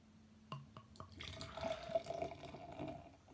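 Brouwerij 't IJ Paasij spring beer is poured into a glass: a few gurgling glugs from the bottle, then a steady splashing, fizzing pour, close and fairly quiet, with no talk.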